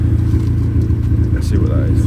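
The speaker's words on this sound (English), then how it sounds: "we're still misfiring" An Audi A3 8P engine with a misfire idles with an uneven low rumble throughout, while a person talks over it.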